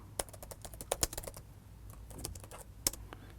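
C# code typed on a computer keyboard, a quick burst of close, crisp key clicks with irregular rhythm and a few louder keystrokes, and no talking.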